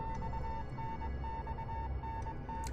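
Insistent Morse-code-style beeps pulse in irregular short and long tones over a deep, murky drone in the horror visual novel Death Mark, with a few faint high clicks near the end.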